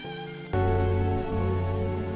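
Steady rain starts suddenly and keeps falling on a rooftop, a dense even hiss of drops that continues without a break after a brief quieter moment.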